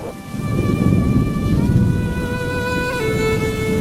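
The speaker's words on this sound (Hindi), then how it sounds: "बारिश होने लगी" Heavy rain pours down with low rolling thunder rumbling throughout, loud and dense, as a sound effect in an animated Hindi story set in bitter cold, while faint tonal music lines sit in the background.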